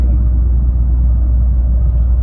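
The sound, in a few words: car driving fast on a highway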